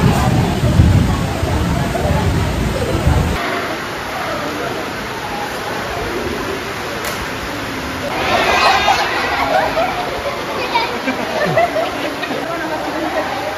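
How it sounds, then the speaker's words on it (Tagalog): Steady rain falls outside on a mountaintop, a broad continuous wash of patter heard nearby, with a louder gusty stretch at the start and scattered voices and movement mixed in underneath. "Ayan po, umuulan po dito sa labas."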